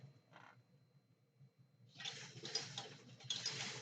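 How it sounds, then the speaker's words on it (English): Industrial sewing machine stitching fabric, a quiet mechanical tick early on giving way after about two seconds to a steadier, louder whirring run of stitching that continues to the end. "It feels so good when I sew. And it's an industrial sewing machine"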